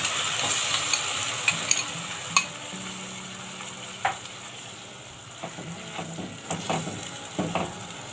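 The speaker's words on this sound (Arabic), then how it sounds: "هنا البصل اهو، شايفين داخل في التحمير" Onions frying in a pan, a continuous low sizzle with intermittent scrapes and clinks of a utensil stirring them, spaced irregularly across the stretch; no talking.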